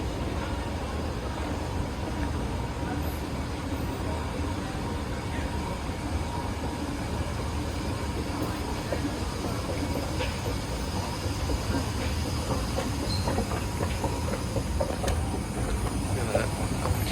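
A 1995 O&K RTK-KBS escalator at a Dillard's store in a shopping mall runs steadily during a ride, giving a continuous low rumble and mechanical hum with faint clicks of the steps and soft store ambience throughout.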